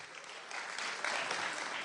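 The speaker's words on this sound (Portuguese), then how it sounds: "Palmas, por favor." Audience applause at a Portuguese-language talk event, a steady wash of clapping that swells slightly midway and holds at moderate, fairly close level for about two seconds.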